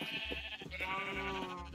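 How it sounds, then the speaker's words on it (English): Minecraft sheep bleating in a run of wavering, nasal cries over a steady low hum of game ambience, fairly close and clear with no talk. "Feeding sheep."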